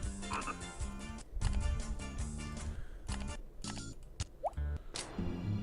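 Frog croaks serve as checker pieces in the Windows 95 computer game Hoyle Classic Games. Several croaks and plopping blips sound over a tuneful background, with no speech.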